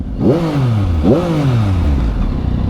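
A 2023 Yamaha MT-09 motorcycle engine, A2-restricted, revs hard twice, each burst climbing then falling away, with a deep stock-exhaust note running throughout, close and loud.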